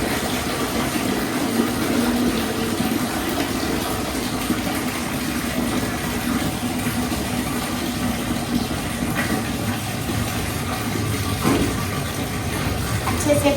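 Water runs continuously while being readied to mix with bleach for washing white and coloured clothes, a steady churning flow under a low motor-like hum.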